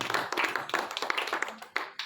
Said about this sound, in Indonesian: Kita berikan tepuk tangan Bapak Ibu Saudara.